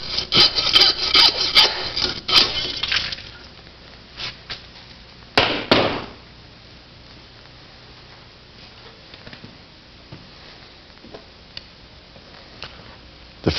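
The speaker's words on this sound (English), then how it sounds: "we want to take the saw and stay about a ½ inch away from that, cutting on an angle approximately like so" A hand saw cuts through a deer femur bone during butchering, giving several rasping strokes up close in the first seconds, then a couple of brief bursts before it trails off into quiet.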